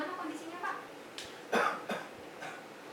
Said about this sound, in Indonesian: saya kok sekarang sering batuk-batuk ya sus